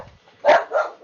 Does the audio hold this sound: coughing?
no